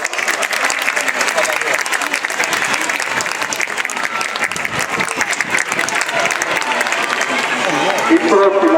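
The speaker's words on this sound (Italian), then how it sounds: "la squadra salutiamoli ancora con un applauso" An outdoor crowd applauds a firefighter team after a ladder rescue demonstration in Cagliari, loud sustained clapping filling the whole stretch, with voices and crowd noise mixed underneath.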